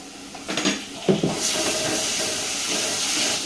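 Ginger frying with onions and turmeric in a pan, a steady sizzling hiss that swells after a few clinks and stirring sounds, continuing loud and close throughout.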